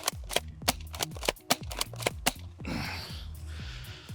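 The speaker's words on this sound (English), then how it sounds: "Airsoft shotgun, 3 shots into my stomach, pretty close range." Airsoft shotgun shots fired into a person's stomach at close range make a rapid series of sharp, dry cracks and snaps, closely spaced, followed by a brief softer rustle.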